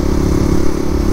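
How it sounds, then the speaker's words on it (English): A Kawasaki KLX 300 motorcycle exhaust echoes inside a tunnel, a steady loud low engine drone with rough, throbbing texture that holds at constant level throughout. "I don't get to hear the exhaust like that too often"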